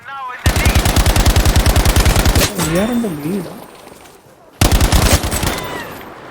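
Automatic gunfire in the online shooter game Battlefield V: two loud, rapid bursts of rattling shots, the first long and the second short, separated by a gap with a whooping electronic tone and game ambience.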